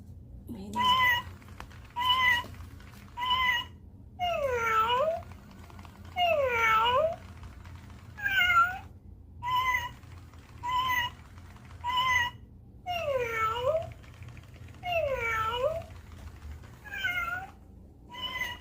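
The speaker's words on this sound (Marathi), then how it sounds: "हे टॉकिंग कॅट आहे तिची, टॉक करते." A toy cat meows again and again, about a dozen electronic calls in steady bursts with short gaps, close and clear.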